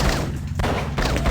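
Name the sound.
gunfire in Blade Runner 1997 video game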